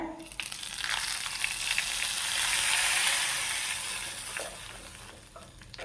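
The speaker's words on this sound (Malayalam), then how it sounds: "കടുവും പറങ്കിയെല്ലാം വറുത്തെടുത്തിട്ടുണ്ട് ഇനി നമ്മൾക്ക് ഈ പച്ചടിയിലോട്ടൊന്ന് ഒഴിച്ചു കൊടുക്കാം" A loud burst of sizzling swells and then fades as a hot oil tempering of mustard seeds and chillies is poured over bitter gourd pachadi, with some faint scraping.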